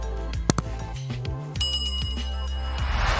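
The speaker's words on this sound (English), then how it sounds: "ring that notification bell" A bright ringing bell used as a notification sound effect, with sharp struck tones early on and sustained high ringing afterward, and no voices.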